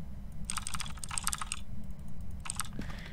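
Bursts of typing on a computer keyboard inside the Phasmophobia video game, quick clustered keystrokes in two runs separated by a pause, over a steady low background hum.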